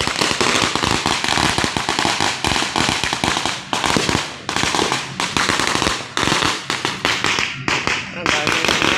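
New Year fireworks and firecrackers exploding in rapid, dense bursts of crackling bangs that run without pause, loud and close, with people talking underneath.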